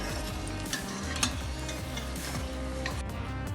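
Somas pastries deep-frying in hot oil until golden give a steady, dense sizzle throughout, with a few soft clinks and stirring knocks from a utensil in the pan.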